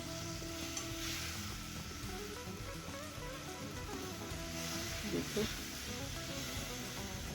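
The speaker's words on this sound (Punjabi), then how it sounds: "ਇਹਦੇ ਵਿੱਚ ਆਪਾਂ ਸੇਬ ਜੋ ਆਪਾਂ ਕੱਦੂਕਸ ਕਰਕੇ ਰੱਖਿਆ ਸੀ ਉਹ ਪਾ ਦੇਵਾਂਗੇ ਤੇ ਉਹਨੂੰ ਇਸ ਤਰ੍ਹਾਂ ਹੀ ਭੁੰਨਾਂਗੇ" Grated apple sizzles and fries in hot oil in a wok, a steady soft hiss with stirring scrapes, and a person talks over it.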